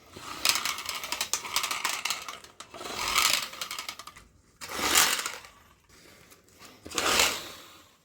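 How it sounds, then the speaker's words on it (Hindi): A handmade fan built from a soda bottle, spun by pulling a ring, gives a rattling mechanical whir in repeated bursts, each surging loud then fading, about four spins in total, with no talking. "अब बस इस रिंग को खींचना है और पंखा घूमना शुरू हो जाएगा"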